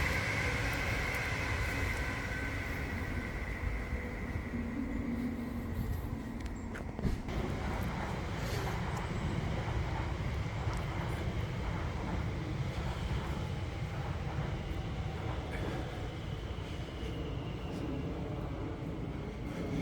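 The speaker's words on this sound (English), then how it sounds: "Train." A train rumbles past near a cemetery, a steady broadband roar that builds and holds for the whole stretch, fairly close and continuous, with no clear talk over it.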